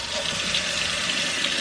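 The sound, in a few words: warm tap water rinsing keto ramen noodles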